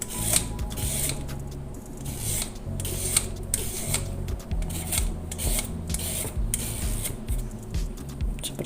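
Vegetables scraped over a hand grater for a watercress dish, a soft rhythmic rasping of repeated strokes, close and fairly quiet.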